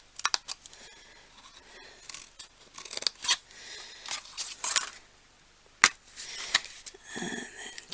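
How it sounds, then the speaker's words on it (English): Scissors cut tiny slivers of paper up close in quick, irregular snips, with crisp blade clicks and soft rustling between cuts. "tiny slivers that I'm just cutting out"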